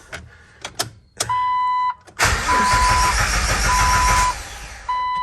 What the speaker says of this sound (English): then we gotta see if the Jeep will start up